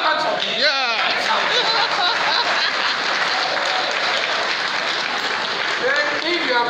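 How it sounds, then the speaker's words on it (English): Loud, continuous applause from a large crowd at an Akwa Ibom State APC party gathering, with cheers and scattered voices in the mix throughout. "Clap out for me!"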